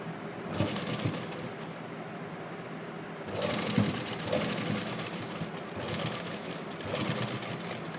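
A sewing machine stitches lace onto a round, curved hem in steady continuous runs, its motor whirring close and fairly loud, with a brief pause and shifts in speed between bursts.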